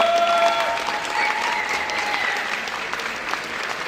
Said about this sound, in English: please make some noise for our moderators.